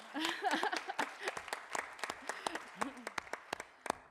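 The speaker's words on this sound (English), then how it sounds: "You can give her a round of applause, it's okay." A small audience at a school board of education meeting claps for a student quarterback, scattered sharp handclaps in an uneven patter, fairly faint and roomy, with a voice speaking over part of it.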